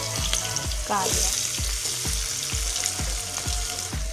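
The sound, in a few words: mustard seeds, asafoetida and crushed garlic frying in oil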